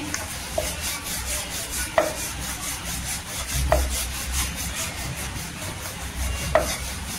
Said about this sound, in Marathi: आपण चपाती लाटून घ्यायची पूर्णपणे गोल राऊंड मध्ये